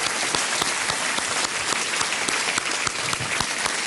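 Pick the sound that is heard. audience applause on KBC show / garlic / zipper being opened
audience applause on KBC show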